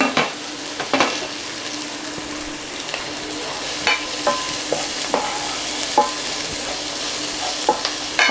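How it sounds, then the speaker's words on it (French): Pre-cooked cabbage, carrots and Brussels sprouts stirred in a pan over low heat, a steady soft sizzle broken by repeated scraping and clacking of the utensil against the pan. "on rajoute tout doucement les légumes tout en remuant"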